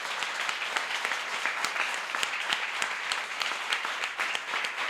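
A church congregation claps together during a Sunday service, producing a continuous patter of many hands with sharp individual claps standing out, moderately loud and without speech.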